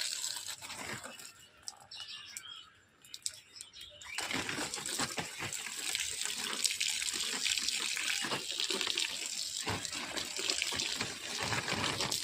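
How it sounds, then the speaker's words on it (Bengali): Running water is poured onto the soil of a small rooftop garden, a steady close splashing and gushing that starts a few seconds in after a quieter opening and continues to the end. "এই জমিনের মধ্যে একটু জল দিয়ে দিই"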